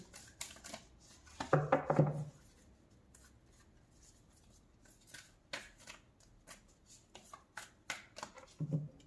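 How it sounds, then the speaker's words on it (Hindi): A deck of tarot cards is shuffled and split into two piles, giving a short burst of riffling and rustling paper followed by sparse soft taps and slides of cards, close and quiet with no talk. "इस डेक को करेंगे 2 पार्ट में डिवाइड।"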